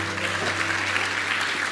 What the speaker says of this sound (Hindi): मैं चाहूंगा एक बार जोरदार ताली होनी चाहिए वेस्टीज मार्केटिंग प्राइवेट लिमिटेड के लिए